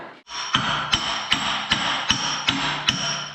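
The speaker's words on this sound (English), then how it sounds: "using a baby hammer" A small hammer taps a washer onto a tile plow, striking about seven light metallic blows at a steady rhythm, close up and alone with no talk.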